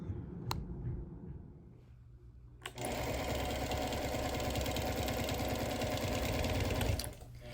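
A sewing machine quilts a wool wall quilt, running in a fast, steady mechanical whir for several seconds after a quieter start with a few small clicks.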